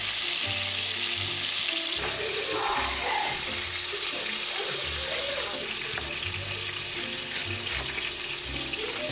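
A buttered burger bun toasts in a hot pan, giving a loud, continuous close sizzle with a faint clatter of kitchen movement underneath.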